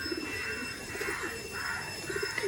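Kalshira pigeons coo in a soft, repeated rolling rhythm, several close, quiet calls in steady succession with no voices.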